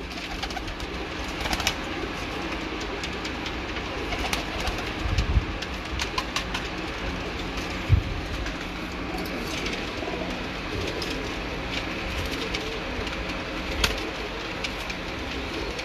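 Teddy and red-eyed breeder pigeons cooing softly in a loft, repeated low calls over a constant background hum, with occasional louder bumps and flutters.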